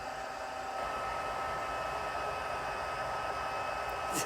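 A heat embossing tool blows hot air to melt gold embossing powder on a craft project, making a constant, loud whooshing hiss like a hair dryer that runs unbroken and close for the whole stretch.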